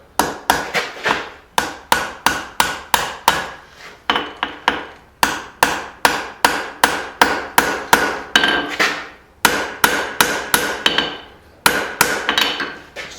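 A steel blade is forged by hand from dug-up junk metal, and a hammer strikes it in steady, loud, ringing blows. Quick runs of evenly spaced hits are broken by short pauses, close up with no talking.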